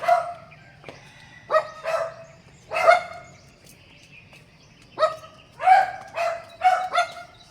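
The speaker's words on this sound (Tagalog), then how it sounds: "Puro tahol ng dog ang maririnig ninyo." Several dogs bark in short outdoor bursts, alone at first and then in quick clusters, moderately near, with faint chirping birds in the background and no talking.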